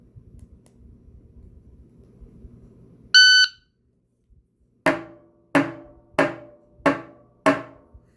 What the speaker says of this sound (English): I certainly heard the timer going off